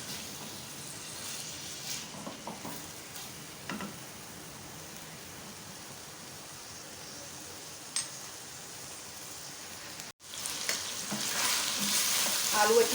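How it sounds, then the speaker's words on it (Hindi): Potatoes frying in a pan with green chilies and fenugreek, a steady soft sizzle with occasional stirring clinks, growing louder and brighter near the end. "आलू अच्छी तरह से फ्राई हो गए।"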